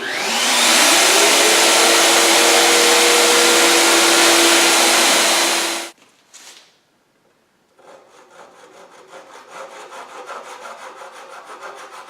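A router fitted with a pattern routing bit cuts mortises in wood for a table, a loud, steady high whine for about six seconds that stops abruptly, followed by quieter scraping and rubbing.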